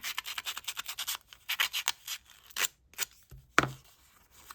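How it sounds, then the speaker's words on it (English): Hand sanding of colored craft cardstock: close, scratchy rubbing strokes in quick rhythmic bursts, with short gaps and one sharper scrape near the end. "When you sand it, you get the craft colored cardstock."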